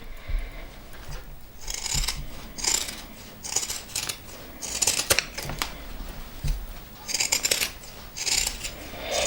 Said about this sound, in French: je découpe le surplus dans les arrondis